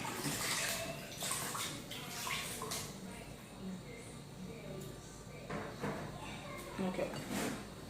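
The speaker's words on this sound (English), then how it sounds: "let me wash my hands." Hands washed under a running tap, a steady wash of water noise with brief splashy bursts, fairly close, with some faint background voices and clatter.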